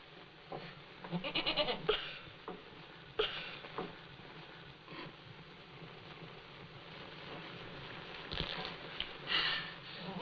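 A goat bleating in a farm setting, heard as several wavering calls, some close and loud, others fainter, over a buzzing of insects and a low background hum.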